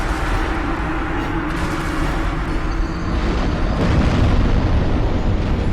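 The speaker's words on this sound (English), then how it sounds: "And he makes little explodey attacks." Explosive attacks from the Stray Demon boss in the video game Dark Souls, loud rumbling blasts layered over one another in a continuous roar, building toward a heavier burst near the end.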